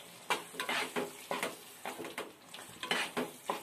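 A spoon stirs apple tomato gojju in a pan with coriander leaves, making repeated scraping, sizzling strokes in a quick, uneven rhythm, close and fairly soft.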